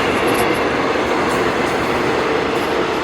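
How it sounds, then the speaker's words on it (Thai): A diesel railcar express train rumbles past at close range, a steady loud roar of wheels and engine with a faint high whine, no voices. "ขณะที่ขบวน8วิ่งผ่านไปนะครับ"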